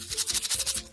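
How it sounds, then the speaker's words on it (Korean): A rice container is shaken like a maraca, producing about ten quick, rhythmic grainy rattles in a single burst, close-up and with no talking. "이 쌀통은 꼭 악기 마라카스 소리 같은데?"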